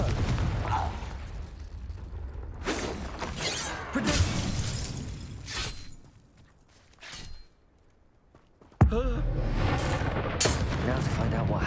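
A Confringo fire spell from Hogwarts Legacy bursts in several sharp blasts amid combat clatter, then a lull, and another loud crack lands near the end, with a voice calling out among the effects.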